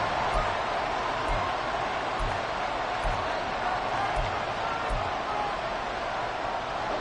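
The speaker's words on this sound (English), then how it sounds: "This crowd turning up the decibel level." Stadium crowd noise from an EA Sports football video game late in the fourth quarter: a dense, constant roar of spectators holds at a steady level throughout, with faint low thumps underneath.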